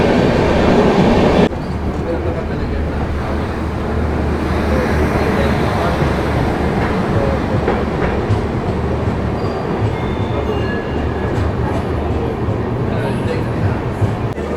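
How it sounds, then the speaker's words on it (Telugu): The Hubballi-Mysuru Janshatabdi Express running past Malleswaram station, a loud, continuous roar of wheels and rails with rattling carriages heard from on board, steady throughout. "హుబ్లీ నుంచి కేఎస్ఆర్ మైసూర్ వెళ్ళే బండి అయితే ఇప్పుడు మల్లేశ్వరం స్టేషన్ స్కిప్ చేస్తున్నాను అనమాట"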